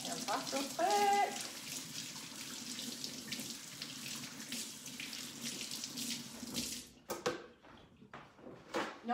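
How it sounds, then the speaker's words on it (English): Water runs from a kitchen tap as hands are rinsed, a steady splashing rush that stops abruptly near the end, followed by a few clinks and knocks; a voice is briefly heard. "Let me wash my hands off real quick."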